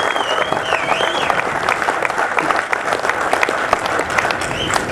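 Steady applause from an event audience thanking an organizer after a talk by Marcus Luttrell, dense continuous clapping with crowd noise and a few whistles throughout.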